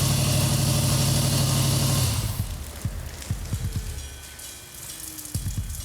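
A 1971 Plymouth 'Cuda 340 convertible V8 runs loudly for about two seconds, then cuts off, leaving only scattered knocks and small clatters nearby.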